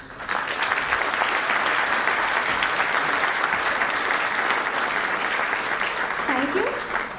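An audience claps throughout at an annual general meeting of a bank officers' association, a steady loud wash of applause from a large crowd, fading slightly at the end.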